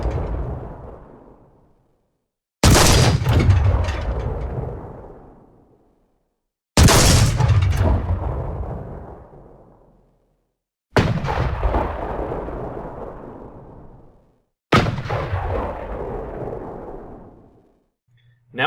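A 7.5 cm KwK 40 tank gun, the main gun of Panzer IV and StuG III, firing in War Thunder: four loud, sharp cannon shots spaced about four seconds apart, each trailing off in a long rumbling echo.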